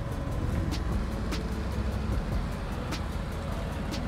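A Can-Am Spyder RT Limited three-wheeler runs with a steady, close engine and road drone that holds evenly throughout, with faint periodic ticks over it and no talking.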